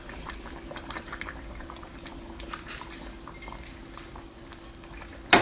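Sugar browning in hot oil in a pot, giving a steady bubbling sizzle throughout, with a faint utensil clink near the end.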